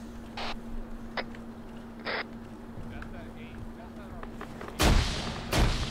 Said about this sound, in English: we're about to take artillery fire